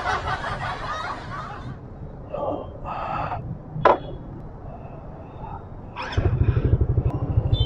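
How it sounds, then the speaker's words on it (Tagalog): A Suzuki Raider FI motorcycle engine idles and warms up at close range in a parking lot, with a steady low putter that grows louder and more pulsing near the end, while people talk and laugh nearby. "painitin muna natin ang makina"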